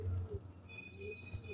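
A racing pigeon resting in a truck after a 166 km race from Carranglan, Nueva Ecija, gives soft, low, repeated coos close by, with faint background noise.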